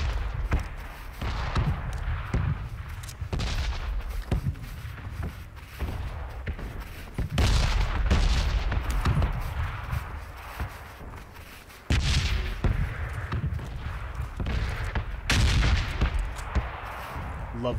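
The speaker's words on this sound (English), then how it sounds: "Love the new artillery sound." Heavy artillery fire in the video game PUBG, deep booming blasts landing in repeated bursts at roughly 0, 7 and 12 and 15 seconds, each a loud broadband impact with rumbling tails, continuing as a dense barrage throughout.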